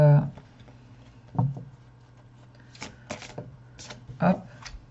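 Tarot cards shuffled and drawn by hand, soft papery riffles and slaps in a few bursts over a low steady hum, with brief speech between them.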